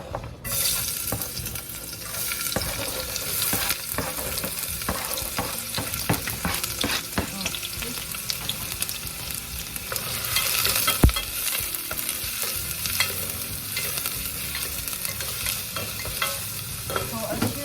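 Onion sautéing with salt in a pot for a beef and butternut squash soup, a steady close sizzle with continuous stirring scrapes and light utensil clinks throughout, no talking.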